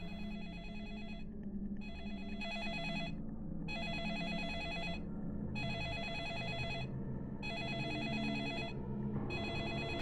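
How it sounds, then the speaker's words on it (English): An old-style telephone bell rings in repeated bursts with brief pauses in the video game Premonition, set in a lumber mill, over a steady low ambient hum. "Another phone call."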